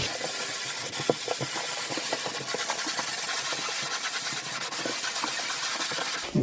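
Power sander smoothing drywall mud on a wall during a mobile home restoration, a steady close hissing, rubbing whir with small scraping bursts, no voices.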